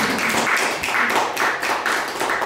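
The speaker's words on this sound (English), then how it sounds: "Let's give you guys a round of applause" Audience applause at a film screening in a gallery, a sustained burst of many hands clapping, close and fairly loud, with no talk over it.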